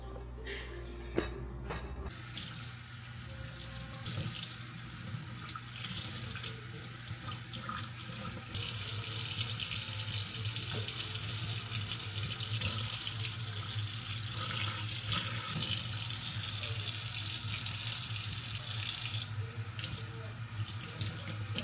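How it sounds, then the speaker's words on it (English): Tap water running steadily into a sink while washing hair, a continuous close hiss and splash that swells slightly louder partway through and carries on with no talk. "I've already washed my hair"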